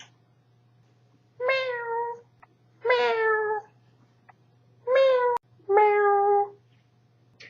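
A cat meows four times, clear and close, in drawn-out calls with short pauses between, over a faint steady hum.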